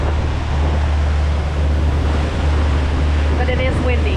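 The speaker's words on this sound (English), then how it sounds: "But these waves, look at this. This is Lake Huron." Waves wash and churn on windy Lake Huron, a loud, continuous roar of surf mixed with wind buffeting the microphone and some faint engine rumble.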